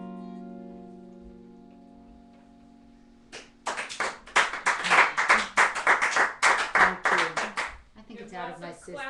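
A clapping sound effect plays from a chat window, a burst of rapid crisp claps lasting several seconds after a held musical tone, followed by a voice speaking.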